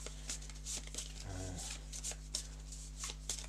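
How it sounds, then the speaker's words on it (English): Cards for a tabletop board game being shuffled in a quiet room, with soft riffling and rustling close by and a few brief clicks. "we're going to shuffle these without looking"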